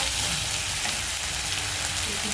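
Masala with ground white sesame paste fries and is stirred in a pan, a loud, dense, continuous sizzle held close throughout, with no talk.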